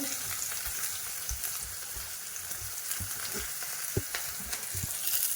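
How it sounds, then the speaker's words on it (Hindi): Ginger, green chili and asafoetida crackle and sizzle steadily in a little hot oil, a dense, close hiss with occasional sharp pops and no talking. "अब हम इसमें अदरक मिर्च डालते हैं और हींग डालते हैं।"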